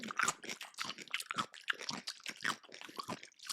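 Crisp, repeated crunching bites and chewing of a crinkle-cut pickle, loud and close, in a steady run of wet crunches with no talk.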